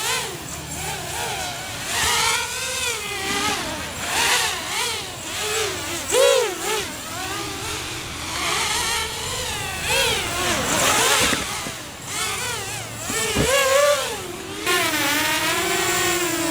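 REDCON Phoenix 210 FPV quadcopter drone flying in a yard, its motors whining and warbling up and down in pitch continuously, fairly close and loud, with no speech.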